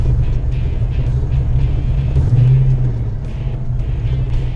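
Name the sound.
car engines at race event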